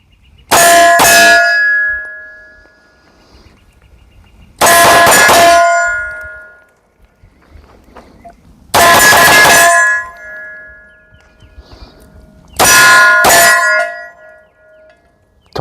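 Shots from a Fowler V9kx pistol ring out against a steel target at a gun range, four loud, sharp clanging hits spaced a few seconds apart, each hit ringing on briefly before it fades.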